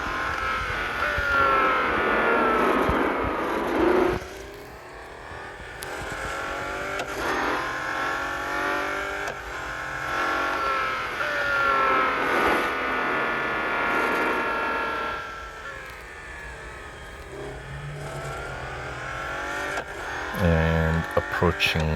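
A Bugatti Chiron in a racing video game, its engine rising and falling through repeated upshifts, with a loud rising whine that drops at each gear change and a brief lift near the end. Someone talks over it.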